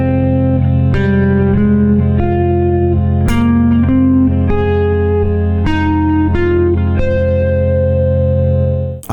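Electric guitar solo over a sustained drone chord, with rising tone resolutions and larger melodic leaps, played through distortion and reverb effects; a steady stream of sustained single notes with picked attacks, loud and close, with no talking.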